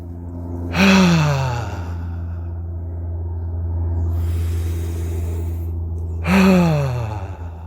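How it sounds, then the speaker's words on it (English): Two slow, deep breaths, each a loud, drawn-out sighing exhale, close to the microphone with a quieter inhale between them. "let's take some deep breaths"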